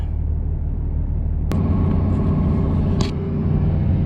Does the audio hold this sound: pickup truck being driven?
yes